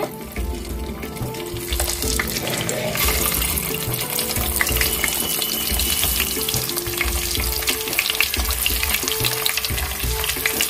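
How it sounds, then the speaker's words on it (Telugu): Eggs and turmeric frying in hot oil for a dry fish and egg curry, a loud, continuous sizzle close up with scattered spoon scrapes and clatter against the pan. "ఆయిల్ వేడైందండి ముందుగా కొంచెం పసుపు వేసుకుందాము ఒక అర స్పూండు గుడ్లు వేసుకుందామండి"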